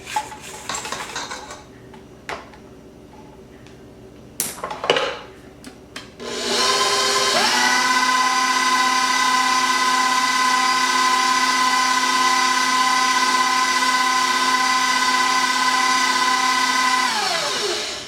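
Electric mixer whipping a sugar mixture for Halloween cookies to stiff peaks: a few clinks and scrapes of the bowl, then a steady loud motor whir that runs for about ten seconds before winding down.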